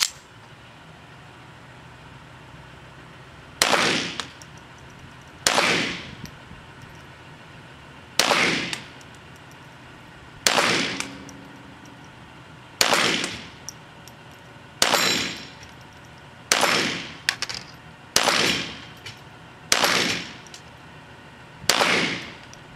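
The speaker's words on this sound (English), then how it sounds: "This is probably about enough video shooting that dueling tree." A Smith & Wesson Victory .22 pistol fires about a dozen single shots at a steel dueling tree outdoors. Each sharp crack carries a ringing metallic clang of the plate, spaced a second or two apart and quickening toward the end.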